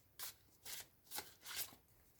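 Tarot cards being shuffled, with four quick papery riffling bursts in an even rhythm, close but quiet, and no talking.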